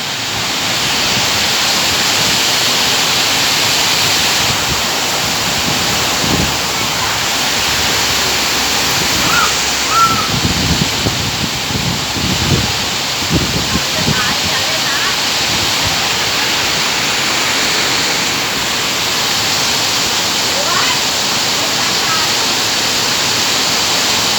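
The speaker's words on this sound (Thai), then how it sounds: "ทั้งฝนทั้งลมนะครับตอนนี้" Heavy rain and strong wind pour down in a constant, loud roar, with irregular gusts thumping against the microphone; someone talks briefly over it.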